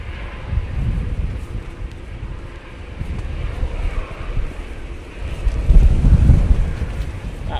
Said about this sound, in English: That wind is certainly getting up now.